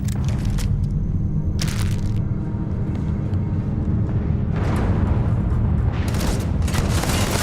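Enemy gunfire in Starfield, a run of sharp cracks and booms in bursts over constant low rumble, with clusters of shots near the start, middle and end.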